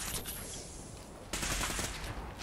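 Gunfire aimed at the player in Fallout 4, a loud burst of shots and scattered reports that turns into a sustained volley partway through, close and harsh, with no talk.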